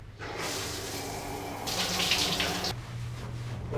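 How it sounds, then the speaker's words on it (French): A public shower at a motorway rest area runs with a steady, close rush of spraying water that grows brighter midway and then settles back to a lower stream. "quand on va se doucher dans une douche publique"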